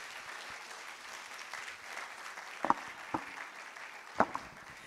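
A conference audience applauds after a postgraduate presentation, a steady, fairly faint patter of clapping with a few sharper claps standing out.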